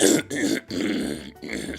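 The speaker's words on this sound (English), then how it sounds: "Can you stop making coughing noises?" A few rough, throaty coughing or throat-clearing bursts in quick succession, close and fairly loud, separated by brief pauses.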